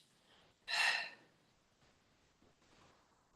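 A single sharp, breathy exhale during a push-up in a strength and balance workout, fairly close and distinct, followed by soft quiet breathing.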